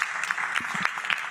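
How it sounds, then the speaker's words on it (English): Audience applause for startups at a tech summit general session, a steady mid-level clatter of clapping hands filling the room for a short stretch with no talk over it. "Let's give these startups another round of applause."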